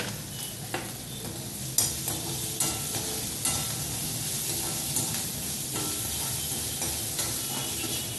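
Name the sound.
ginger frying in oil in a pan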